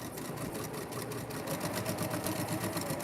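A sewing machine runs steadily through a basting stitch, its fast, even mechanical whir close and continuous for the whole moment with no talking.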